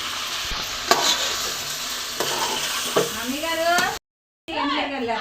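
Spiced boiled chicken frying in an oiled pan, a loud close sizzle with a few spatula scrapes and knocks, then cut off by a short silence before a voice talks over the frying.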